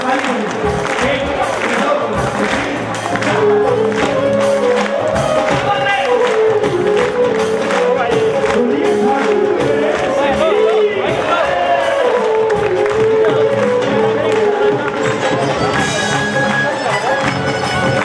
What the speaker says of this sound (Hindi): ताली बजेगी